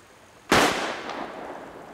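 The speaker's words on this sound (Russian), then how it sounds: "Ну, кто так стреляет?" A single gunshot in a wartime action film: a sharp, loud crack with a ringing decay and echo trailing off over the next second and a half.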